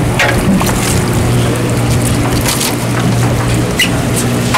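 Rain falls on a deep sea fishing charter boat out of Hubbard's Marina, giving a steady, dense hiss of drops with a low engine drone underneath, continuous throughout and close by.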